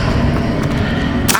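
A short whooshing magical spell blast from the Hogwarts Legacy video game, a loud dense burst lasting about a second that ends in a brighter crack.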